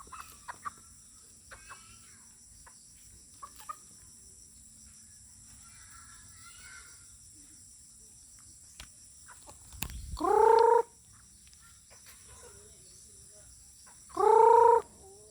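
Chickens in a quiet yard: two loud, drawn-out squawking calls stand out several seconds apart over faint background ticks and rustles, with no talking over them.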